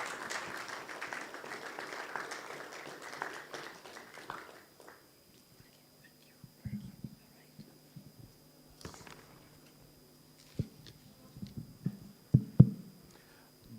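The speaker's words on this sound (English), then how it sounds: "Keep clapping until he gets here." Conference audience clapping while a speaker walks to the podium: applause for roughly four seconds that fades out, then a quiet room with scattered thumps and footstep-like knocks.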